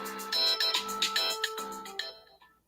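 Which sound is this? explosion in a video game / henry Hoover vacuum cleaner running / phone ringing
phone ringing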